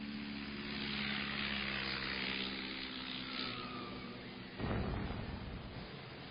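A 1930s propeller bomber drones in flight with a steady, rough, throbbing engine roar. A sudden heavier burst of noise cuts in near the end.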